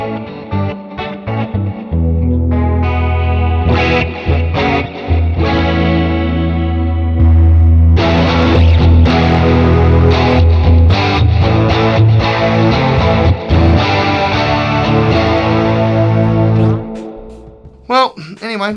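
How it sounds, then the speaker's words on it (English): Electric guitar through an MXR Custom Shop Third Man Hardware Double Down, loud and close, with heavy distortion, chorus shimmer and light echo, chunky riffing and sustained chords throughout, ending in a brief noisy tail. "That is the MXR Custom Shop third man hardware double down."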